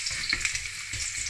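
Ginger sizzling and frying in a pan for a seafood Bicol Express, a steady close crackle with light stirring scrapes over a short stretch.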